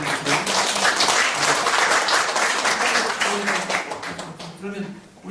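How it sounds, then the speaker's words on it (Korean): An audience at a formal gathering breaks into sustained applause, dense overlapping claps filling the room for about five seconds before thinning out toward the end, with some voices mixed in. "여러분 그리고 박수 한번 주시고요"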